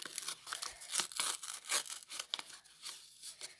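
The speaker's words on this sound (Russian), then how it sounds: "Откроем пакетик." Close crinkling and tearing of a paper packet being opened, in short irregular rips and rustles, quiet with no talking.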